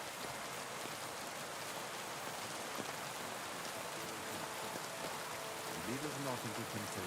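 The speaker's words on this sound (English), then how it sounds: "Bit of rain in the morning." Steady rain falling in the Kingdom Come Deliverance 2 video game, a dense continuous hiss of drops at even level throughout, with a faint low voice-like murmur near the end.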